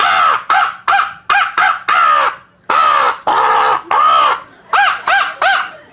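A hunting call imitating a crow, with a loud, near series of harsh caws in irregular bursts of two to four, some drawn out and strained, with no talk.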